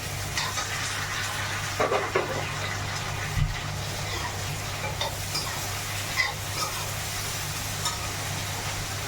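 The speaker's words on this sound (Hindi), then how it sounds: "और बस मसाला डाल के ना फिर मैं मिक्स कर दूंगी इसको" A spoon stirs masala with a piece of tomato in a hot pan, making soft scraping and sizzling over a steady low background hum, with occasional knocks of the spoon against the pan and no talking.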